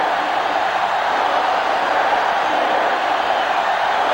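A stadium crowd in an NCAA Football 07 game gives a dense, steady roar of massed voices that holds at an even, loud level throughout, with no distinct individual sounds standing out.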